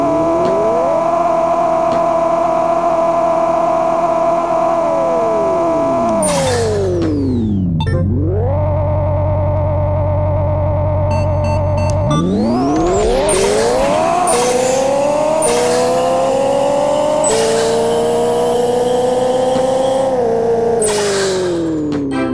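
Race car engine revving hard through gear changes in the video game Pixel Car Racer, loud synthetic whine rising and falling, with a brief drop and a surge of NOS boost, continuous and close.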